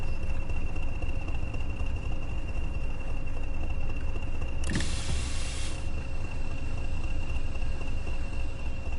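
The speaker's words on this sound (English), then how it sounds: "Let's get the windows down." Train cab windows being lowered in Train Sim World: a steady electric motor whine runs for about a second over a constant background hum and rumble of the cab, with no voices.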